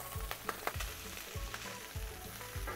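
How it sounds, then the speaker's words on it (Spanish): Mushrooms browning in bacon fat in a pan make a steady, moderate sizzle, with soft regular thumps and clicks of stirring laid over the frying. "Dejamos que se dore un poquito los champiñones con la grasa del tocino."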